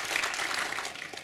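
Brief, fairly soft burst of audience clapping at an awards gala in Zambrów, honouring independent music festival organizers, a dense patter of hands heard from some distance.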